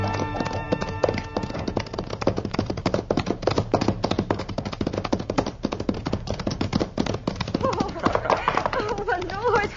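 Rapid, steady clip-clop of horse hooves running, loud and close, in an old-time Western radio drama, with talking mixed in and a brief whinny-like sound near the end.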